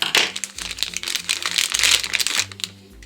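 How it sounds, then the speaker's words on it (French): Crinkly plastic packaging crackles and rustles almost continuously as a small toy unicorn is unwrapped, close and fairly loud, with background music faintly underneath. "Alors, on va déballer la petite licorne."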